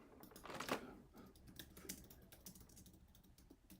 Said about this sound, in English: Typing back again, can't multitask that well.